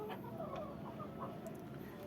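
Rooster clucking softly and intermittently in a farmyard, a few short low calls close by over steady background noise.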